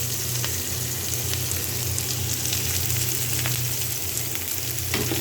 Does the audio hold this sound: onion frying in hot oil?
yes